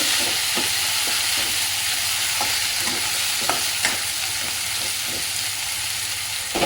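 Finely chopped tomatoes with onions sizzle loudly and continuously in a pan for a Punjabi soybean-potato pakora kadhi, broken by frequent short scraping strokes of a stirring spoon.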